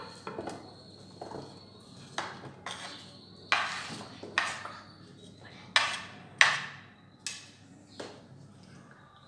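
Guava pieces for a sweet-and-sour fruit chaat drop into a bowl one by one, a series of close, crisp clinks and knocks at irregular intervals of roughly a second, with quiet room tone between them.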